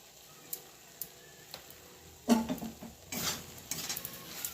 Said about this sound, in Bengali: সব কিছু দেওয়ার পর ভালো করে আবার সবজির সঙ্গে ডালের সঙ্গে মিশিয়ে নেব